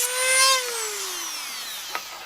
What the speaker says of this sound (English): I'm going to use a Dremel tool to not only deburr the little sharp bits that are left over there